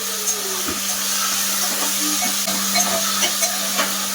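Potato and cauliflower sautéing in a pan with cloves, cardamom, cinnamon, star anise and bay leaf for soybean pulao, giving a steady close sizzle with intermittent stirring scrapes and clicks throughout.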